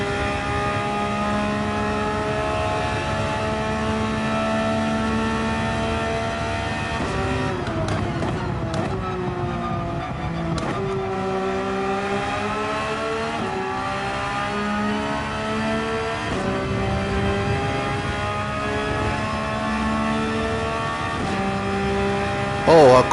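Race car engine in a sim racing game at Monza during an endurance race, a steady high engine drone with shifting pitch that climbs and drops through the gears, running continuously under faint background voices.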